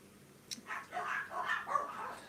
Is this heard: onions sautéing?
no